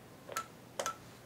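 Two short electronic keypad tones on an Iwatsu business phone system, one single beep followed by a quick double beep, clear and close in a quiet room while a label is keyed in.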